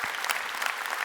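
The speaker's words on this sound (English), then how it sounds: "Just give him a big round of applause" Dense round of audience applause at a business keynote, loud and steady with many hands clapping together in a brief stretch.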